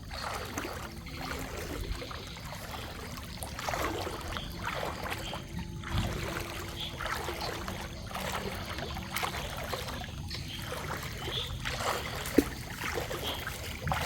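A boat moves through water with steady sloshing and a rhythmic pattern of splashy strokes, continuous and fairly close throughout.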